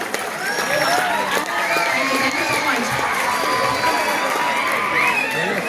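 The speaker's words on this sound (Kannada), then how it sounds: "ಜೋರಾದ ಚಪ್ಪಾಳೆಯ ಮೂಲಕ ಸರ್ ಅವರಿಗೆ ಅಭಿನಂದನೆಗಳನ್ನ ಸಲ್ಲಿಸಿ" An audience at a college day celebration claps and cheers loudly and continuously, with whoops and overlapping voices mixed into the crowd noise.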